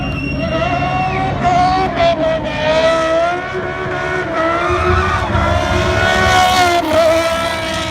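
A high-revving V10 BMW race car engine screams loudly and continuously, its pitch climbing and dropping as it shifts through gears.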